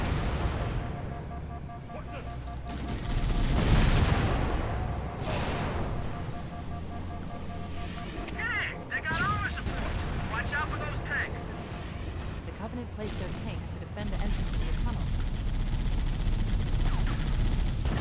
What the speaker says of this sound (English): the accuracy of the chain gun on this tank is not good